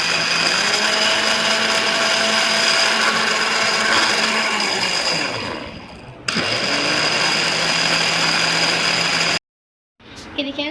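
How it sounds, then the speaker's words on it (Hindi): A kitchen blender whirs steadily while blending a banana milkshake with milk, a loud continuous motor drone that shifts pitch midway, stops abruptly, then briefly restarts. "इसको हम दोबारा से ब्लेंड करेंगे।"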